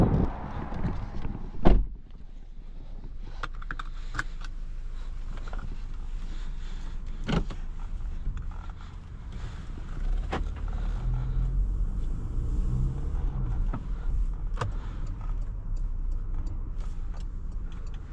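A 2022 Porsche Macan pulls out onto the road, heard from inside the cabin as a low engine rumble and road noise with a few clicks and knocks; a louder thump comes early, and there is no talk.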